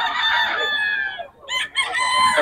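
A rooster crows loudly and close at a Bocaue flea market, one long harmonic call that breaks off briefly and then carries on.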